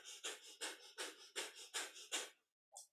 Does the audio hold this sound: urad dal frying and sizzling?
no